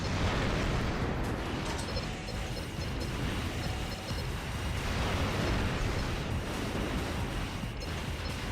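Rolling, dense explosions and blasts from mech combat in Armored Core Silent Line form a continuous loud, rumbling roar with a few sharper bursts, and no voice is heard.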